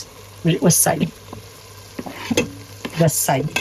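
Onions and berbere spice frying together in a pan for Ethiopian misir wot, a gentle sizzle with occasional stirring bursts, heard close beneath a person talking.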